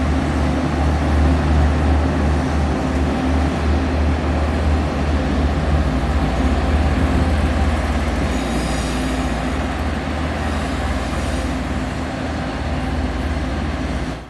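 A train on Taiwan's Pingxi Line rumbles steadily along, with a continuous low rolling drone and faint high rail squeal, loud and close throughout with no talking.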